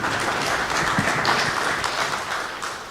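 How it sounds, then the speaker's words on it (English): A crowd applauds the presenters at a higher education loans board universities consultative forum, with steady, dense clapping that carries evenly through the whole stretch at a moderate level and no talk over it. "can we give a round of applause for everyone who's made their presentations here this afternoon"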